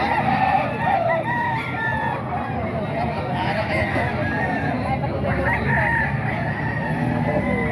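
A Golden Boy Sweater rooster, eight months old, crows at a poultry market amid a busy crowd, its long calls rising over steady background chatter and other fowl.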